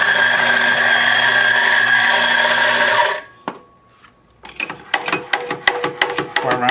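A Mazzer Super Jolly commercial coffee grinder runs loud and steady for about three seconds, then winds down and stops, followed by sharp knocking and tapping clicks.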